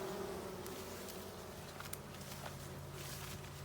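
Honeybees buzzing at a hive during an inspection on a farm, a faint continuous drone with occasional closer passes of individual bees, steady throughout with no talking.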